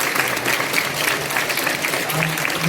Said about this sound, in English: So just a big round of applause again for all of you